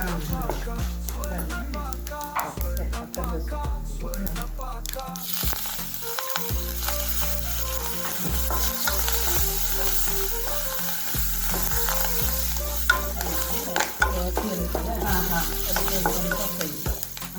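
Ground coconut, green chili and ginger sautéing in hot oil, a steady close sizzle with frequent scraping stirs of a spoon against the pan throughout.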